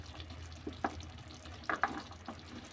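Boiled cabbage being spread into a simmering pan and stirred, giving quiet scattered scrapes and soft sizzling over a continuous low frying hiss, with a few sharper clinks of the spatula.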